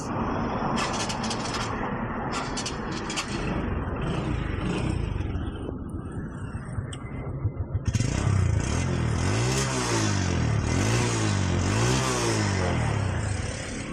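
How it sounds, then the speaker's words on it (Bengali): A TVS Metro 110cc motorcycle engine idles with a steady putter, then from about eight seconds is revved in repeated rising and falling surges, loud and close, with no talk. "বাইকটি আমি আপনাদেরকে সাউন্ডটা শোনাই দেবো"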